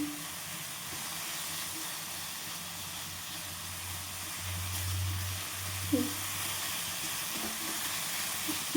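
Bitter gourd roasts in a pan with a steady, close hiss and a soft sizzle, a low hum underneath and a few faint clicks near the end.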